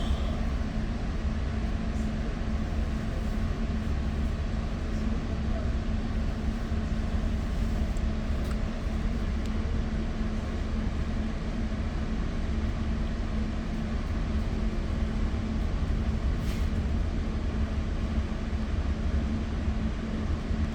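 Steady low rumble and broadband rolling noise inside an exo commuter train on the Mascouche Line in winter, running continuously at an even level throughout.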